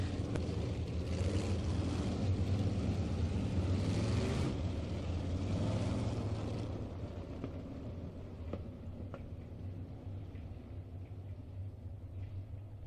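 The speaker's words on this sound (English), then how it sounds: "Heat race number 2 for the Strickland GMC Crate Sprint Car Division" GM 602 crate sprint cars race through a heat on a dirt oval, a loud, continuous engine roar that swells over the first six seconds, then eases into a steadier, slightly quieter drone.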